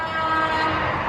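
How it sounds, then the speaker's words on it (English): A vehicle horn sounds as one sustained, loud tone from a highway, filling the whole brief moment without a break. "somebody honked down the highway"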